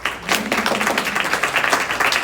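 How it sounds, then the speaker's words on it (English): A school board meeting audience applauds, steady dense clapping from many hands that holds at an even level throughout, close and fairly loud with no talk over it. "Always good to clap for that."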